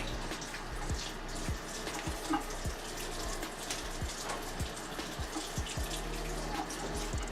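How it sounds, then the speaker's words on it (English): Fruit is rinsed under a running kitchen tap, water pouring steadily into a sink with faint splashes and soft knocks as the pieces are handled, close and continuous without speech. "so we're going to rinse these off, and I'm going to add them to the rest of them that I already rinsed off."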